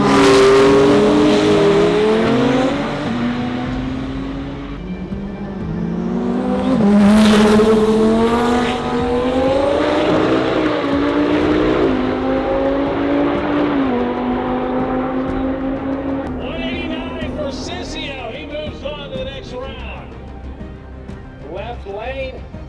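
Racing cars at the TX2K drag event accelerate hard through rising gear changes, loud and close at first and then fading downrange, with someone talking over the engines throughout.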